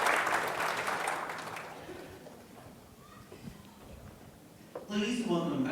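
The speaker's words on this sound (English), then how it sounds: "let's give a round of applause to the mayor of Cleveland" Audience applause for the mayor of Cleveland at a technology conference, clapping that fades through the middle before a fresh louder burst near the end, with voices mixed in.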